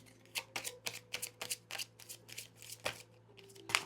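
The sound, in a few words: shuffling tarot cards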